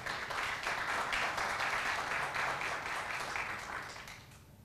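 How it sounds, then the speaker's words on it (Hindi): An audience at a Lovely Professional University event claps together in a steady, continuous burst that fades toward the end, heard from a distance at low level. "मैं चाहूंगा एक बार ताली बजाकर आप लोग बता दीजिए अगर आपको सुनने का मन है तो।"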